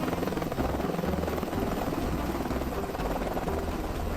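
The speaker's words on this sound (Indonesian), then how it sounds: "ini siapa yang parkir helikopter tiba-tiba di sini?" A helicopter is parked close by with its rotor running, giving a loud, continuous rhythmic thumping and engine roar that holds steady throughout.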